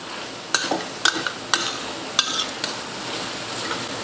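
Curry mixed fried noodles being stir-fried with spring onion in a wok, several sharp spatula scrapes and clanks over a soft steady sizzle, close.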